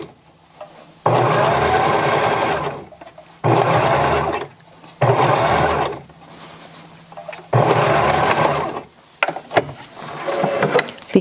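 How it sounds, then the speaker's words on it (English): A sewing machine redoes top stitching on a child's dress made from a tee shirt, running loud and close in several bursts of a few seconds each, separated by short pauses, with no talk. "And redo that top stitching."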